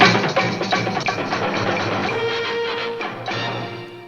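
A recording of the CBS Thanksgiving specials theme music plays loud and full, with layered melodic tones that swell early and then ease off toward the end, with no voices.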